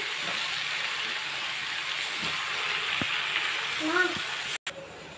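Ridge gourd curry seasoned with salt and turmeric is stirred in a sizzling pan, with a soft, steady fry broken by several scraping strokes of a spoon and a sharp clack near the end.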